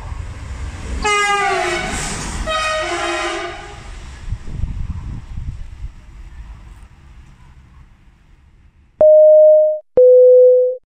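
A train rumbles past on platform 1 at Anzola Emilia station with rising and fading rolling noise and a two-tone horn blast, followed by two loud electronic beeps.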